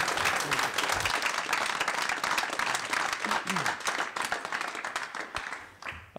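Audience applause at a school board of directors meeting, a dense steady wash of many hands clapping that fades out toward the end.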